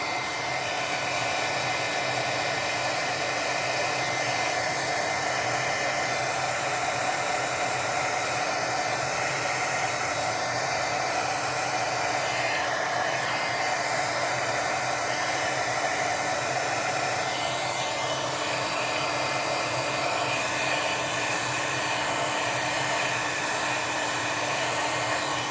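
A hair dryer blows steadily to dry alcohol ink on a stamping project, making a continuous whooshing roar that stays close and even throughout with no voices.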